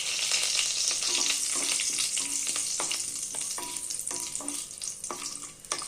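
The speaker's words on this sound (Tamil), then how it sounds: "இது நல்லா ஃப்ரை ஆகட்டும்." Whole spices and a single bay leaf fry in hot oil in a pan, giving a steady loud sizzle with intermittent stirring scrapes and clinks, close up and without speech.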